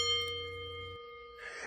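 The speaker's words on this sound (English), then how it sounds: "Ring the bell." A bell rings out with steady, sustained metallic tones on a wrestling talk show, the bright ringing holding for over a second before fading into a softer hiss, with no voices over it.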